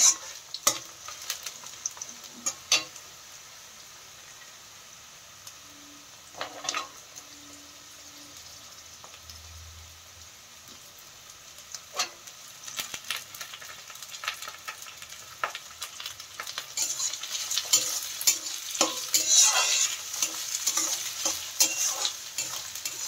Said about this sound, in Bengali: দিয়ে দেওয়া হচ্ছে গাজর, তারপরে জাস্ট একবার নেড়ে মিশিয়ে নেওয়া হবে ওর সাথে বাদ বাকি সবজিগুলো